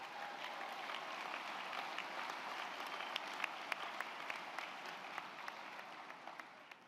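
Steady applause from a conference audience honoring Unsung Hero award recipients, a dense even patter of many hands with a few sharper claps standing out before it tapers off near the end.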